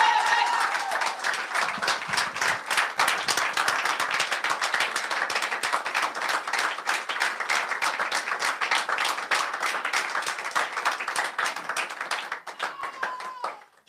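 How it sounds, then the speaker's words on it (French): A church congregation at a special service bursts into loud, sustained applause, dense rapid clapping from many hands that fades near the end, with voices mixed in. "quand il s'approche, on acclame très fort pour la gloire du Seigneur"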